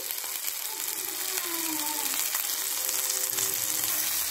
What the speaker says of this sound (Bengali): আদা রসুন দিয়ে দিয়েছি, একটু নেড়ে নেব